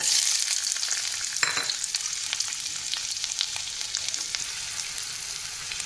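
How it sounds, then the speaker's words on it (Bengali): Diced small onion frying in oil in a pan, a steady close sizzle with faint crackles throughout and a brief louder burst early on, no talking. "তারপর দেখো আমি একটা ছোট পেঁয়াজ ডুমো ডুমো করে কেটে রেখেছিলাম, সেটা তেলে দিয়ে দিলাম।"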